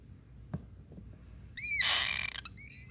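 Baby woodpeckers calling from a nest, a burst of high, harsh chirping squeals after a soft knock, with a few thinner calls trailing off at the end.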